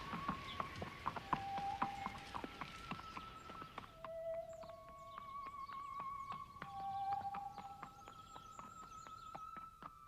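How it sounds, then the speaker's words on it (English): Horses' hooves clip-clop steadily at a walk, with irregular knocking beats at moderate distance over quiet background tones. "More horses."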